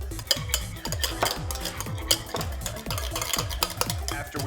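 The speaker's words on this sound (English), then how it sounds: "Now, just kind of give this a little mix, get the wet ingredients going." Wet crab cake ingredients, with Frank's hot sauce, are mixed in a bowl, giving a steady rhythmic stirring and scraping with repeated strokes roughly every half second, close and fairly loud, with no talking.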